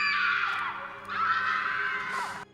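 Stock screams from the thriller film Mindhunters: several high, shrill screams overlapping in a steady, fairly loud stretch with a brief dip midway and no talking.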